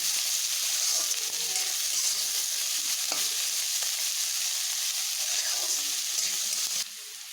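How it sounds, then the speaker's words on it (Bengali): Salted onions sizzling hard in a wok, a continuous close frying hiss broken by repeated stirring scrapes and clinks, dropping slightly quieter at the very end. "এভাবে একটু ভেজে নেব পেঁয়াজটাকে"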